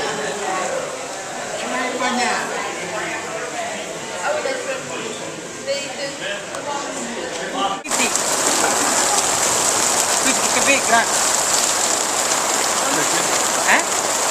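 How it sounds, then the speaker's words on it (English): Heavy rain pouring in Lucca, Italy, a steady hiss of drops on surfaces that grows louder and more intense halfway through, with people talking nearby over the downpour. "First serious rain we've had."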